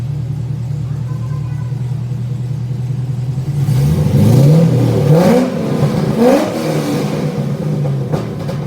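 Car engine with Borla exhausts idles with a low, steady rumble, then is revved in three quick throttle blips that swell and drop back to idle, loud and close.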